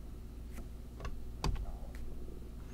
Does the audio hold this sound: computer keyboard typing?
yes